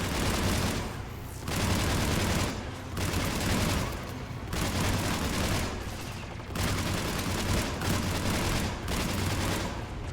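Bursts of rapid automatic gunfire using disruptor ammo in Mass Effect 3 rattle loudly in several long volleys, each separated by brief pauses.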